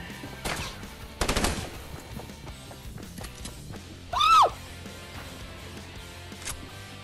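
Video game gunfire, including flintlock hand cannon shots, comes as a few sharp bursts spread through the clip, fairly faint against a quiet game background, with one short whistling shriek in the middle.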